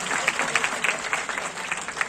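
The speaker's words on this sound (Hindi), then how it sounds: "एक बार इनके लिए जोरदार ताली बजाओ भाई" An audience at a children's student camp applauds children from South India with dense, continuous clapping from a crowd.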